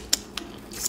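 A crunchy bite into a Papa Johns Parmesan crusted papadia, heard as a few sharp, close crackling crunches spaced through a quiet moment, with no talking over them.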